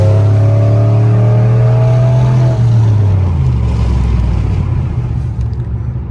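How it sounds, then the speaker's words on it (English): Straight-piped Pontiac Bonneville GXP pulling hard with the windows down on a cold road, a loud raspy engine note climbing then dropping away into a lower rumble and road roar as the driver lets off. "I'll do a little pull for your guys with the windows down"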